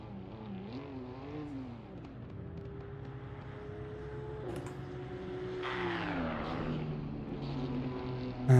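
A BMW M2 race car in a sim racing game pulls onto the Silverstone circuit, its engine note rising and shifting steadily across the clip at moderate volume, with a louder surge at the very end.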